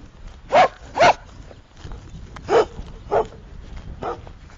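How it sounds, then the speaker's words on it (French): A dog barks outdoors at night, five separate moderately loud barks: two close together, a pause, then three more spaced apart, over a low background hum. "Écoutez le chien."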